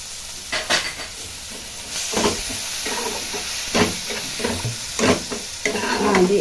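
A spoon stirs spices (turmeric, coriander powder) and peas sizzling in a hot pan for Yippee noodles, with repeated scraping strokes over a steady frying hiss, close and fairly loud.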